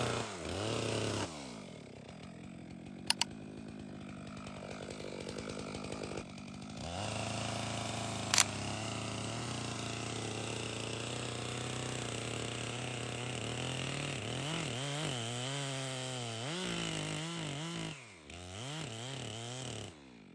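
A chainsaw makes a felling cut through a tree trunk, its engine buzzing loudly and continuously. The pitch rises and falls as the chain bites into the wood, with brief dips where the throttle eases.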